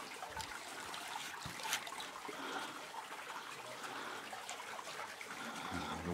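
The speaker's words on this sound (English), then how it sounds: "And the water just continues down around the corner here." Water trickling and running around a corner deep inside a Nova Scotia cave, a faint, continuous babbling flow with small splashes and drips.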